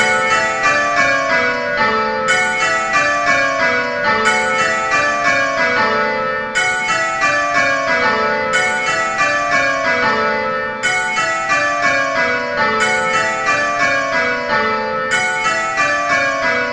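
Simulated church bells ringing in rows in a bell-ringing practice program, a steady cascade of overlapping bright strikes repeating in regular cycles, loud and continuous with no talk.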